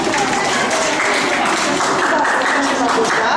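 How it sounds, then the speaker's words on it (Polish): Children applauding at a primary school Teddy Bear Day event, a dense, fairly loud patter of claps with voices mixed in underneath. "Również brawa wielkie dla Małgosi."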